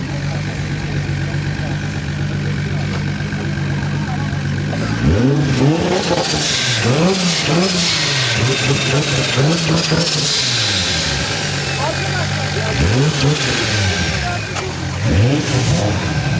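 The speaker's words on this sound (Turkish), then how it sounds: "Lan motor yataktan çıkacak. Turbo sesi çok güzel." A turbocharged car at a car meet revs repeatedly in rising and falling bursts over a low rumbling idle, loud and close, with crowd chatter in the background.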